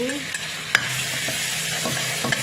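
Shrimp stir-frying in a hot pan with pounded chili, garlic and oyster sauce, a steady sizzle broken by a few sharp scraping stirs of the spatula, close up and with no voices.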